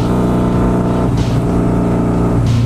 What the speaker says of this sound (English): this is like half throttle, man. Drag pipes, man, drag pipes.